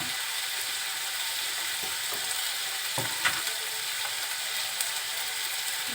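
Onion frying in a pan with ginger and garlic paste added, a steady soft sizzle with occasional scraping stirs and clinks, close and continuous.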